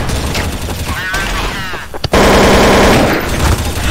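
Gunfire in the Counter-Strike: Source video game, a loud, rapid burst of automatic shots that takes over halfway through after an earlier stretch of game noise and a voice.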